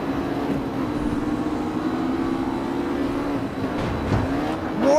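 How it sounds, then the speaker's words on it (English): A Mustang's engine in the CarX Street racing game, a steady throaty drone that holds for several seconds, then swells toward the end. "Oh yeah, Mustang. I like this as well. It sounds really throaty."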